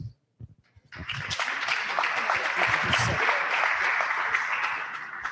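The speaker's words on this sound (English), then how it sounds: "Another round of applause, please" Applause from an audience at a hybrid Rotary Club meeting, a few scattered claps swelling into steady, sustained clapping that fills the room and holds to the end.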